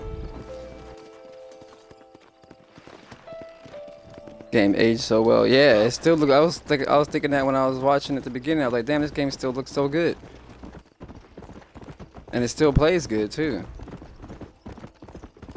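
Horse hooves clip-clopping in the Red Dead Redemption video game, a rhythmic trotting beat under a loud, ongoing conversation between players.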